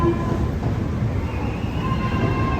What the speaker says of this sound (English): You can hear the trains that go over, they're very noisy